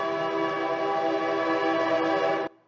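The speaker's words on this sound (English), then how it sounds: "Excuse the train." A train passes close by with a steady, loud, tonal rumble and blaring horn-like drone that holds for over two seconds, then cuts off abruptly.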